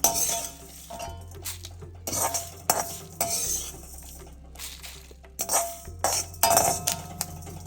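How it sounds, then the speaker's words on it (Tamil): Roasted Kundapura rasam spice mix is scraped from a pan into a bowl: bursts of scraping and sharp metallic clinks, close and fairly loud, with no talking. "இதை ஒரு போலுக்கு மாற்றிடுறேன்"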